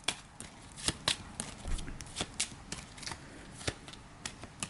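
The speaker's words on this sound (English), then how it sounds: "let's shuffle up the Nemesis, the turn order deck" A turn order deck of game cards for an Aeon's End tabletop session is shuffled by hand, a run of crisp, close riffling snaps and soft card slaps in an uneven rhythm, with no talking.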